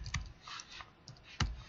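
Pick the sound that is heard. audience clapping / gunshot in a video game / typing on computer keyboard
typing on computer keyboard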